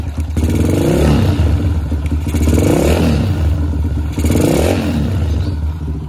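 A motorcycle with a tuned PWK 28 carburetor revs up close and loud, the engine climbing cleanly in three strong swells over a steady idle, with no spoken voice.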